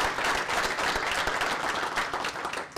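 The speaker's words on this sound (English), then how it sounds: "a big round of applause" A dense, steady wash of applause from a sizable crowd at a Kentucky governor's visit to Ohio County, many hands clapping at once and sustained at an even level throughout.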